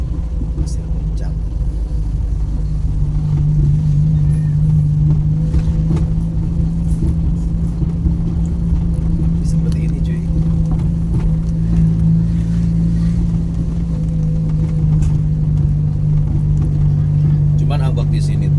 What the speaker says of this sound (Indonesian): Jadi ada angkotnya transportasi dari Pasir Muncang ke Ciawi ya ini.